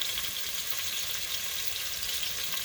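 Onion sizzles in a pan as the base for a homemade curry chicken, giving a steady, close frying hiss without pause and no talking.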